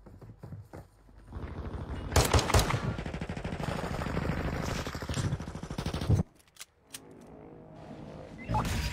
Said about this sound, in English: And now I'm getting shot at.